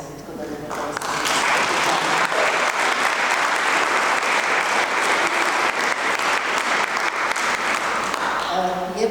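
An audience at a book reading breaks into sustained applause, dense and loud, with a steady clatter of many hands for several seconds before it thins out at the end.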